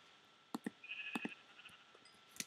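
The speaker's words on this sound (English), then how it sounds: "there's a lot of sheep" Sheep bleating in a video game, a few short separate calls in a quiet scene, one drawn-out bleat near the middle and brief clicks around it, with no talk.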